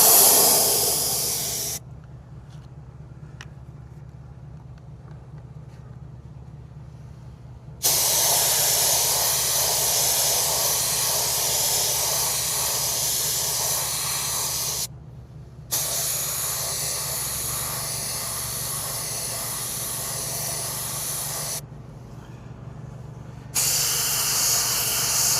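Spray can hissing dark hyper paint onto a Cadillac Escalade V wheel rim, several long steady bursts broken by short pauses, close and even, no talking.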